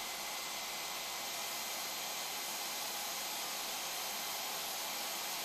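A Leister Varimat V2 hot air welder's blower runs with a steady, even hiss, constant and uninterrupted with no other sounds.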